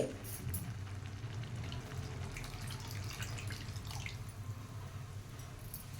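Water trickles and drips steadily into a cooking pot of gongura and prawns, a soft, close, continuous splashing with no talking.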